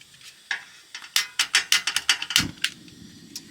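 A small lighter clicks repeatedly on a portable camping gas stove, a quick run of sharp, close clicks, then a brief soft whoosh as the gas catches and fades into a faint hiss.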